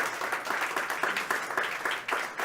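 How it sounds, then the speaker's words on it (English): A studio audience applauds a panel discussion, a steady dense wash of many hands clapping together at close range, carrying on without a break for the whole stretch with no voices over it. "Let's give them one more round of applause from our studio audience."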